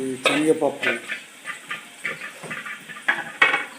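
Dried red chillies stirred in a pan while cooking pulihora, with repeated scraping and rustling strokes and a light sizzle, fairly close, spaced in irregular bursts.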